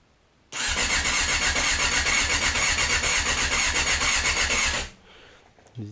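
An engine fires up abruptly, runs for about four seconds at a loud, steady, throbbing idle close by, then cuts off into quiet.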